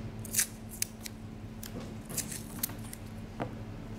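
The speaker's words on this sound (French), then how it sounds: "Je refais un petit peu de scotch." Quiet, close snips and crackles, a few sharp clicks scattered over a faint hum, like tape being handled and cut.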